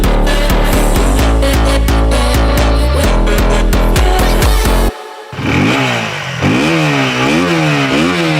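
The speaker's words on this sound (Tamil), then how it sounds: "எக்ஸாஸ்ட் நோட் கொஞ்சம் வித்தியாசமா இருக்கு" KTM Duke 160 motorcycle engine revving through its exhaust, rapid loud throttle blips at first, then a brief drop and a rising and falling rev sweep, close and without talk.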